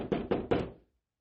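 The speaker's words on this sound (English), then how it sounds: "showed up in the Augustinian cloister and knocked on the door that day" Three firm knocks on a cloister door, evenly spaced and close, followed by silence with no voices.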